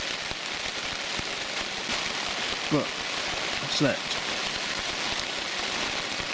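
Steady rain drums on a tent at a clifftop wild camp on the coast near Hope Cove, a dense constant patter close around, with a brief spoken remark partway through.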